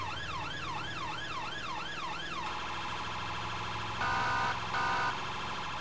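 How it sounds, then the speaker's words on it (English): A Mercedes Sprinter ambulance siren wails up and down on an emergency run, then switches to a faster, harsher tone, with two short, louder blasts near the end. "I'm going to give us a nice change of siren tone"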